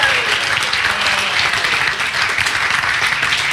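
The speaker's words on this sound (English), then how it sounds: "Can I have a round of applause for Sean?" Wedding guests applaud the groom during a best man's speech: dense, loud clapping from a roomful of people, sustained and even throughout without a break.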